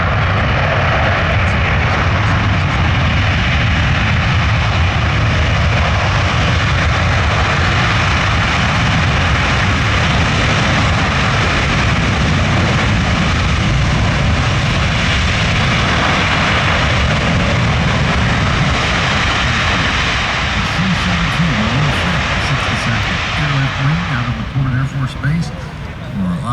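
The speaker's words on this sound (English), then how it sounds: "And these four engines and that airframe allow this aircraft to reach speeds of about 515 miles per hour." Four engines of a Boeing C-17 Globemaster III military jet transport roar loud and steady at a Sun 'n Fun airshow, a broad continuous drone that eases slightly near the end, with some talk underneath.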